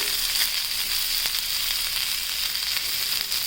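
A pomfret fish frying in a pan over a low flame, giving a steady, close, continuous sizzle and crackle with small pops throughout and no voices.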